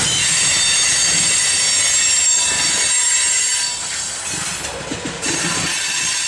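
A CSX manifest freight train led by BNSF locomotives rolls past at Mount Holly. Loud, continuous wheel squeal and rail rumble dominate, easing slightly near the end, with no voices.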